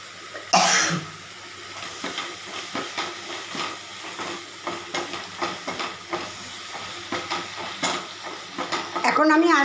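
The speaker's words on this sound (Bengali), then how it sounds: "সিমে দিয়ে মশলাটাকে কষে নিচ্ছি" Spices sautéing on a low flame for a bottle gourd curry, giving a soft, steady sizzle under a run of light, regular stirring taps, with a cough near the start and some rustling clatter at the end.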